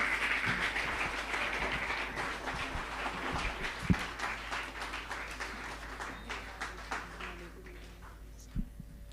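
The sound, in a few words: applause welcoming the facilitators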